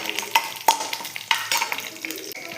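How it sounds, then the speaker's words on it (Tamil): Curry leaves sauté in a pan for a chutney, with a gentle sizzle broken by sharp spatula taps and scrapes against the metal at an uneven rhythm, close by. "கருவேப்பிலை போட்டுக்கலாம். நல்லா வதங்கட்டும்."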